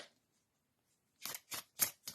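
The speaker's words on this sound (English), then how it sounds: "let me just shuffle some more cards." Tarot cards are riffled in four quick, crisp bursts close to the microphone, each a short papery flutter following a quiet pause.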